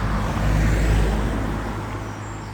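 Road traffic passes beneath a concrete railway bridge at St Helens, with a loud low rumble of vehicles and a faint hiss above it, fading slightly toward the end.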